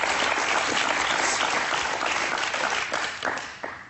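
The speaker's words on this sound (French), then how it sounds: "Ça s'applaudit." Studio audience at a French television talk show breaks into sustained, loud applause, dense clapping filling the whole stretch and tapering slightly toward the end.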